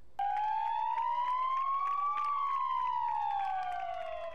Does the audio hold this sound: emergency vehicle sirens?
yes